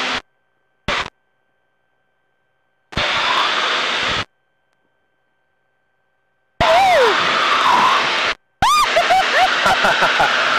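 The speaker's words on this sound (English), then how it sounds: "we're going to fly over the runway 50 low and really fast" A Pitts aerobatic plane makes a very low, fast pass over a runway, speeding toward about 200 mph. Loud, close engine and wind roar comes in separate bursts broken by silent gaps, with whining tones that rise and fall.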